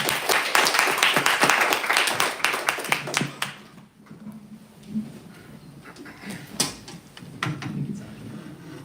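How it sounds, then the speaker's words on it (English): An audience at a tech talk event claps in a short, loud burst that fades after a few seconds, followed by quieter room noise and a few scattered taps. "let's hear a huge round of applause"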